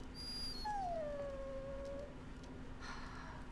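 A dog in the video game Dragon Age: Origins gives a clear, drawn-out whining howl that slides down in pitch, with a shorter whimper before it, over a quiet steady background hum.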